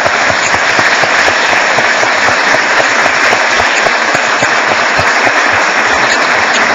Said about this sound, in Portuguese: eu quero dar uma salva de palmas para vocês